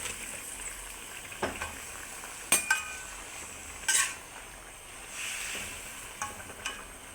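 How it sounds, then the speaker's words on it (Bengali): Malabar spinach is stirred into a pan with chili paste. Faint sizzling sits under a few sharp spatula scrapes and clinks against the metal, spaced out over several seconds. "এখন আমি শাক দিয়ে দেবো, পুঁই শাক।"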